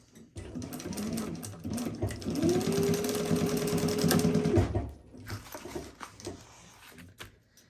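Sewing machine stitching a pocket panel onto a zip pouch, a close rapid whirring run of a few seconds with a rising motor hum, then stopping, followed by light handling clicks.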